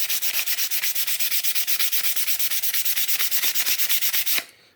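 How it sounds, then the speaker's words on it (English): Wood being sanded by hand with sandpaper in quick, even back-and-forth strokes, a loud rhythmic scratchy rasp repeating steadily before stopping abruptly, with no voices. "once I start going to a finer grit sandpaper"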